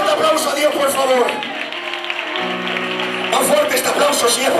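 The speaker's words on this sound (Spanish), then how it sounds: "fuerte aplauso a Dios, por favor." A church congregation at a baptism service applauds in rough bursts at the start and end, with sustained musical or sung tones carrying through the middle.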